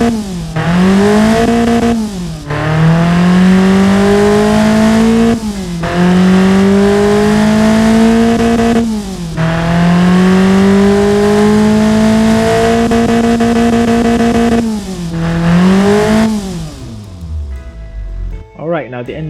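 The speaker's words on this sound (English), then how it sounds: "Now the engine is running perfectly powerful and torquey" A simulated Hyundai 1.4L inline-four in the Automation game revs hard to high RPM, rising in pitch, dropping at each shift and climbing again in repeated loud pulls, then winding down at the end.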